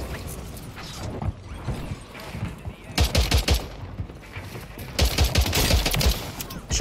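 Bursts of video game gunfire in a first-person shooter, rapid automatic volleys in two clusters with brief pauses between, loud and close with mechanical weapon clatter.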